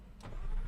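A McLaren 570S sports car started with its push button: a low mid-frequency engine rumble fires up after a brief whir and holds steady, fairly close and loud, with no talk.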